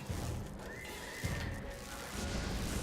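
A horse in Monster Hunter World lets out a loud, drawn-out whinny over a dense wash of in-game background noise.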